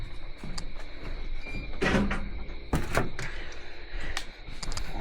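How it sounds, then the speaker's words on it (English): A door at the back of a house by the refrigerators is opened, giving several close, sharp thunks and rattles of handle and frame over a quiet hum, with no talk. "to open that door."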